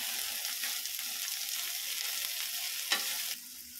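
Frying food being stirred in a pan right after salt goes in, a steady close sizzle with scraping stir strokes, one sharper clack near the end before the sizzle drops slightly quieter.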